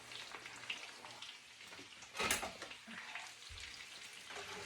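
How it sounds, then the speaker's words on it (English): Pork chops frying in a pan with potatoes, a soft, steady sizzle and crackle at close range with a brief louder burst partway through. "So we can hear that sizzle."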